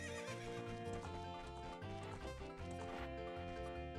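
Epona, the horse in the Ocarina of Time video game, neighs and clip-clops throughout, mixed into steady loud game music with no talking.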